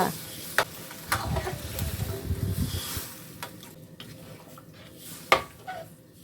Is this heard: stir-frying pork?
yes